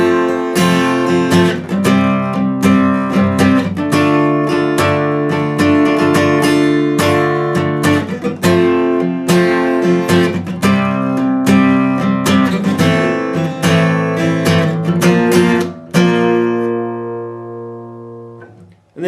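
Electric guitar strums the chorus chord progression of a song at full tempo, steady rhythmic chords ringing loud and clear for most of the passage before a final chord sustains and fades near the end.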